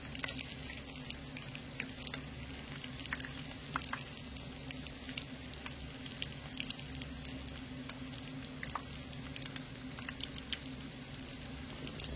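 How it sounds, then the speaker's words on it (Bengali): Pitha cakes made with cornflour, three at a time, fry in oil in a pan, giving a steady, close sizzle with scattered crackles and pops throughout, no voices. "যেহেতু কর্নফ্লাওয়ার দেওয়া রয়েছে খুবই অল্প সময়ের মধ্যে পিঠেগুলো ভাজা হয়ে যাবে"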